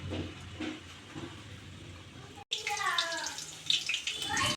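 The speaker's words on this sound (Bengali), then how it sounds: "পনির নেব, নিয়ে এরকমভাবে গরম তেলে দিয়ে দেব" Paneer pieces dropped into hot oil for chilli paneer sizzle with a steady bright hiss that flares up after a brief gap, crackling close by with soft bubbling underneath; earlier, rain and rumbling thunder sound faintly from outside.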